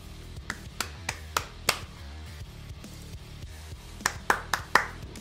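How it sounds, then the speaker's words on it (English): Hands clap in two short runs, about five sharp claps, a pause, then four more, fairly close, with no talking. "We clap for the shinies."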